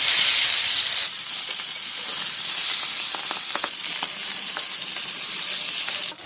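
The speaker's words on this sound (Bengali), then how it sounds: "তেল গরম হয়ে গেছে, আমি এবার মাছ ভেজে নেবো।" Parshe fish, rubbed with salt and turmeric, frying in hot oil for a mustard-paste curry, giving a loud, steady broadband sizzle with crackling pops throughout and a louder burst at the start.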